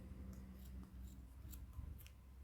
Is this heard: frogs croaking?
no